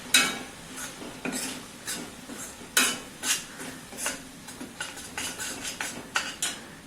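A spoon scrapes and clanks against a pan while red chilli, Kashmiri chilli, garam masala, coconut and garlic masala is stirred into fried onion, irregular metallic knocks over a soft sizzle, close and fairly loud, no talking.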